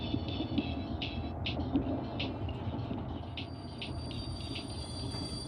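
A train rolls along rails in a game trailer, a steady low rumble with a rhythmic series of faint metallic clicks and bumps passing by, moderately quiet throughout.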